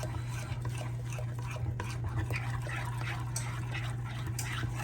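Cornbread batter made runny with milk is stirred in a bowl, giving soft wet sloshing and scraping over a steady low hum.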